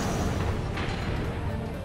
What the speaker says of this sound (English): They got coral missiles.